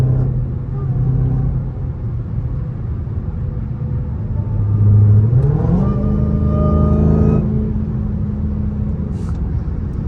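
Dodge Hellcat cruising on a highway, a steady engine and road rumble with a faint supercharger whine that rises in pitch midway as the car accelerates, continuous throughout.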